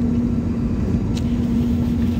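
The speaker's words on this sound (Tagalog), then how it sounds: "Ayan, pinaanda na po ang aming eroplano guys" Airplane engines run steadily as the aircraft taxis before departure from Zamboanga City, Philippines, a continuous low rumble with a steady tonal hum, close and unbroken, with no voices.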